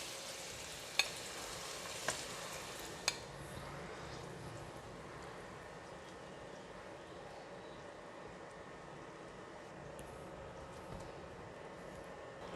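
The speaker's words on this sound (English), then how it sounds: "Scallop is cooked now, and I'm going to take it out from the pan." Scallops fry in a pan for a Chinese-style stir fry with asparagus, giving a steady faint sizzle. A few small clicks early on come as they are lifted out, with no talking.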